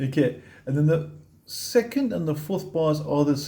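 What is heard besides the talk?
None of the usual background noises is heard.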